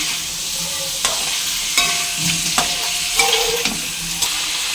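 Mutton liver stir-frying in a hot pan, loud continuous sizzling with repeated scraping stirs of a spatula, close up.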